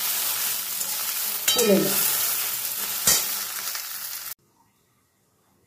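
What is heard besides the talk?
okra frying in oil in a wok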